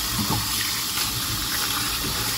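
Thinly sliced bitter gourd (ampalaya) going into water in a kitchen, heard as a steady, close rush and splash of water filling a container throughout.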